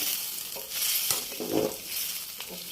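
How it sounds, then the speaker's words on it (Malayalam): Cooked beef stirred in a pan with melting ghee, a soft sizzle with slow scraping stir strokes that swell and fade, close but fairly quiet. "വേവിച്ച് വെച്ചിരിക്കുന്ന ബീഫ് ഇതെല്ലാം കൂടി ഒന്ന് ഇളക്കി യോജിപ്പിക്കാം"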